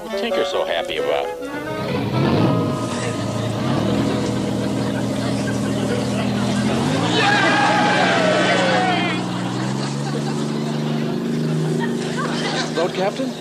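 A boat engine starts and runs on an old navy vessel, a steady droning hum that shifts pitch partway through, with several people talking over it.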